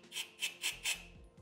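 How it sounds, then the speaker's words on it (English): Four short rasping scrapes in an even rhythm, close and quiet, as a small drill bit is twisted by hand through a port in a KTM 2-stroke motorcycle engine's top end. "I'm just taking a small drill bit. I'm going to run it through by hand"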